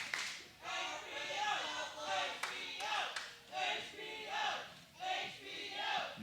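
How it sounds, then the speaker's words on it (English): A wrestling crowd chants for the team Heartbreak Outlaws in rhythmic, repeated bursts, a dense mass of voices rising and falling about once a second with scattered claps. "Crowd chanting for Heartbreak Outlaws."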